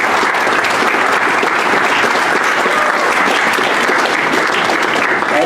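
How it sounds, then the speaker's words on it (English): An audience at a debate event applauds steadily and loudly, a dense wash of clapping that holds constant throughout. "if you'll give me a round of applause for the ladies that served our lunch for us"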